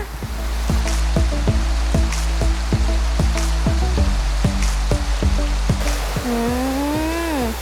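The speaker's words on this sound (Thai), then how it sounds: "ตอนนี้เราก็มาถึงแล้วค่ะน้ำตกตาโพชั้นที่หนึ่ง" First tier of Ta Pho waterfall, a steady rushing roar of falling water filling the scene, overlaid by a series of repeated sharp clicks and a rising-falling whistle-like tone near the end.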